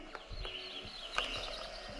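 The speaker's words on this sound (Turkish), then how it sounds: "Kuşlar." Birds chirp faintly in a baby's room setting, a few short thin tweets scattered over a quiet background hum, soft and somewhat distant.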